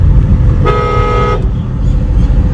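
A driving-school car in Phagwara gives one steady horn blast lasting under a second, loud and close above a constant low rumble of engine and road noise.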